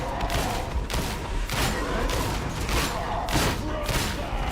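Sustained gunfire from Warhammer Darktide: loud, close volleys of shots repeating roughly every half second over a dense, continuous roar of battle noise, with heavy thumps mixed in and no clear voices.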